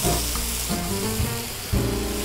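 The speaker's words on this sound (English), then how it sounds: "I'm going to actually turn up the heat now, because I was on fairly low. That's just going to get a nice sear on the bottom." A steak sears in a hot pan, giving a dense, continuous close-up sizzle with a few faint clanks underneath and a slight surge near the end.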